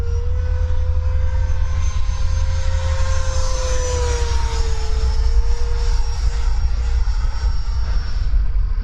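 A Freewing F/A-18C 90mm EDF radio-control jet roars loudly and steadily overhead, its high turbine whine sliding in pitch as it rolls and passes, with no voices.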